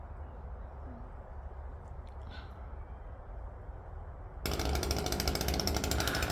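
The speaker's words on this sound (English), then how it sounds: "my chainsaw, guys." A chainsaw working on a mature tamarillo tree: a steady engine drone with a sharper, louder cutting roar kicking in near the end, no talking.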